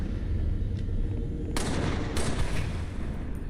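Rapid gunfire bursts in the video game Halo, a dense crackling barrage that suddenly intensifies midway and continues loudly, with no voices over it.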